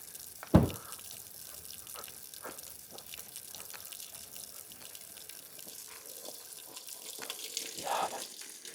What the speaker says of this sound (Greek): Α, μια πηγή.